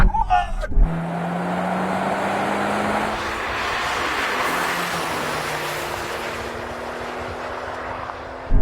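A Porsche 911 Turbo S and a Skoda Superb sleeper in a drag race: a loud engine roar builds and holds with rising pitch and a gear change, heard through wind noise, with brief voices at the start.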